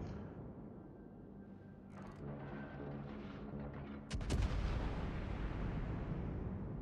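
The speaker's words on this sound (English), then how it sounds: "I'm pretty sure that their battleship is shooting at me." Enemy battleship gunfire in a naval video game booms in low heavy blasts, a sharp loud salvo hitting near the midpoint over rumbling background effects, with no talk.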